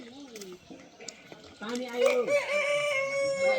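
A person talks briefly, then a rooster crows loudly and close by in a long, drawn-out call.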